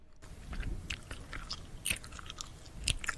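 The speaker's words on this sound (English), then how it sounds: "Do not make these sounds when you chew gum." Gum is chewed loudly with an open mouth, making wet, smacking clicks and crunchy snaps in an irregular close-up rhythm, with no voices.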